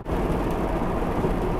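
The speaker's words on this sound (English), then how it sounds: "it's been pouring down like cats and dogs for an hour or two" Heavy rain pours down steadily in a dense, continuous hiss and patter, loud and unbroken throughout, with no voices.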